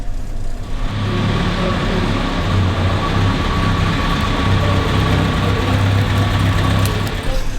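Series 1 Land Rover engine running in first gear, a steady loud low mechanical drone with whine throughout, close and continuous.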